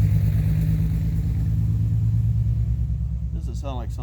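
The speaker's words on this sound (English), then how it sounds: "Doesn't sound like something's quite right with that car." A car engine rumbles low and steady, sounding slightly off, with a constant droning tone near and loud throughout; a voice cuts in right at the end.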